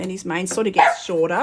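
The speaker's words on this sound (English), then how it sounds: "He's barking at the washing machine." A pet dog barks indoors at a washing machine, short yips and bow-wows tangled with someone talking over them.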